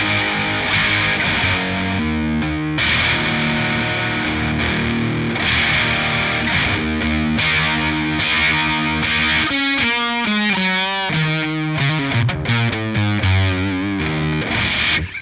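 Electric guitar played through a Boss DS-1 distortion pedal, with thick, saturated chords and riffs ringing loud and steady throughout, moving into a run of quicker single-note phrases near the end, with no voices.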